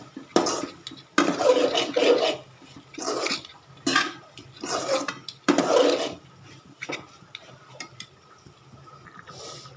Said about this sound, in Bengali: আর এক পাশে তিতা করলাগুলো নেড়ে দিচ্ছি।